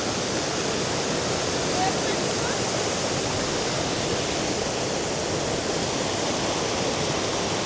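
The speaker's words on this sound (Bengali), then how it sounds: "আরেকটু সময় কাটাবো এই ফলসটার সাথে" A waterfall in Arunachal pours with heavy force, making a loud, unbroken broadband roar that holds steady and close for the whole stretch.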